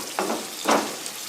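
Meat sauce for shakshuka sizzling in a pan, a low frying hiss with two short bursts of stirring.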